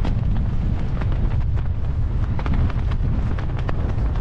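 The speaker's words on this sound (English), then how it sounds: "This is the sound of a flag of Ukraine over Switzerland." A Ukrainian flag flapping hard in strong wind over Switzerland, a loud, continuous rumbling roar of wind buffeting with rapid fabric flutter, heard up close without any talk.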